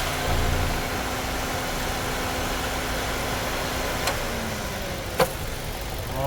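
Freshly replaced 1.6L petrol engine in a Suzuki Vitara idling with a steady low hum and faint ticking, close by, with one brief sharp knock near the end and no talking.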